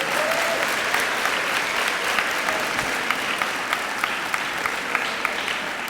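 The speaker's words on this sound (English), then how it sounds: "Please give her a round of applause" An audience claps for teacher Kirsten Miller at an ExCEL Award presentation by the Jefferson County Board of Education, sustained, even applause with a few sharper claps standing out, continuing for several seconds without speech.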